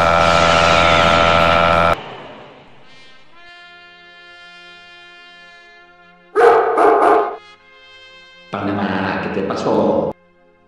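A loud harsh bark-like burst, then a ringing tone fades, followed by two more short loud bursts of barking separated by quiet.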